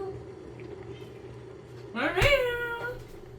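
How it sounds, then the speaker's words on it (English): A house cat meows for attention close by, one drawn-out rising and falling call followed by a shorter tail, over a quiet room with faint background hum. "Yeah, I can tell when he's meowing at me."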